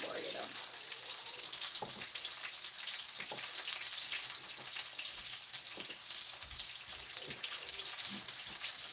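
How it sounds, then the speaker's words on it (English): Food sauteing in a pan gives a faint, steady sizzle and crackle, with occasional quiet clinks from handling nearby. "Saute it a little more,"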